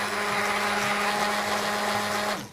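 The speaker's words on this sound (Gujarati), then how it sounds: "એમાં 2 ચમચી ચણાનો લોટ નાખીને બ્લેન્ડ કરી લેવાનું" A kitchen blender whirs steadily as it mixes buttermilk with gram flour, a loud continuous motor drone with a high whine that holds for a couple of seconds, then winds down at the end, with no speech.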